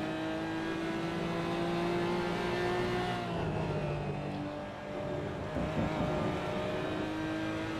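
A Porsche GT4 engine in the Assetto Corsa racing game on the Laguna Seca circuit, revving hard under full throttle with a steady, loud whine that climbs and dips briefly around shifts, with no talk over it.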